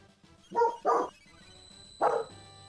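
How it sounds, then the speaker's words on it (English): A pet dog gives three short, sharp barks nearby, two in quick succession and a third after a pause, over a faint background hum. "Oh, we've got Lenny commentating here, my pup."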